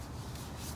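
Steady, close abrasive rubbing of a sanding block working over body filler on a 1967 VW Beetle panel, an even continuous scrape with no pauses.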